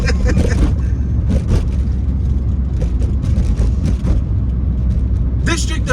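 A bus passes on a city street in Washington DC's Brentwood area, a steady low rumble of traffic heard from inside a moving car while people talk over it.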